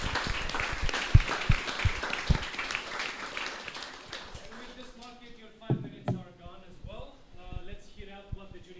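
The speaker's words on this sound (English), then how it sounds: "let's give this applause to Diana" An audience claps for a departing team member at a startup pitch demo night in Brasov. The dense, fairly loud round of applause fills the first few seconds, then fades out as people begin talking.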